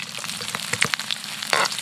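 Ginger sizzles and crackles in about a cup of hot cooking oil, a steady close frying hiss with scattered pops and a stir near the end.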